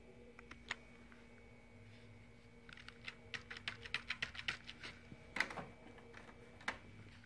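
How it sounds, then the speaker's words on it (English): Computer keyboard keys pressed to reach BIOS setup after a CMOS checksum error, a scattered run of light, sharp clicks and taps of varying spacing, close and fairly quiet, with no talking. "So we're gonna press F2"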